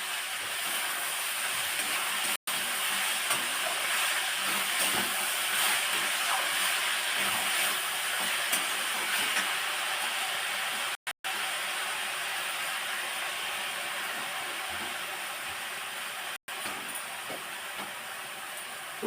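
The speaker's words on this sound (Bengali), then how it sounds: "পেঁয়াজ না রসুন না শুকনো লঙ্কা ফোড়ন দিয়ে আমি তো রসুন ফোড়ন দিলাম" Garlic tempering sizzles in hot oil for frying leafy greens, a steady dense hiss that runs unbroken and fairly loud at close range, with no talking.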